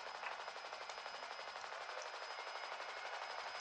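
Gunfire during an armed police operation near a bank and a truck, a rapid rhythmic burst of repeated shots, somewhat distant and continuous through the clip, with no speech.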